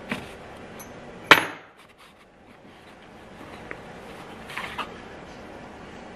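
A single sharp metallic clank as a 1-inch metal hole saw is picked up and set down, followed by quieter handling clicks and rustles.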